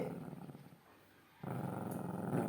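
A pet dog growls in rumbling bursts while tugging at a cloth mat indoors, the low growl loudest and steady in the second half.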